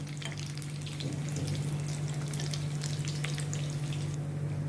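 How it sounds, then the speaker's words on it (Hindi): Corn potato bites frying in hot oil until golden brown and crunchy, a dense continuous crackling sizzle with a low steady hum underneath, close and even throughout. "इनको गोल्डन ब्राउन होने तक, क्रंची होने तक मैं फ्राई करूँगी।"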